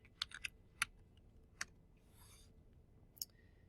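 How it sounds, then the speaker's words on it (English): Someone types on a computer keyboard while editing a PowerPoint presentation, producing sparse, quiet key clicks in small clusters separated by pauses. "I'm going to change that by just clicking on that cell and typing 5 sleep"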